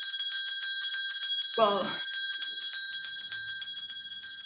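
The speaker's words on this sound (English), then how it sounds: "Every time I hear like the 30 seconds to go bell" A sustained, ringing warning bell sounds continuously at a competition finals event to mark thirty seconds remaining, bright and steady throughout, with a brief spoken word cutting in partway.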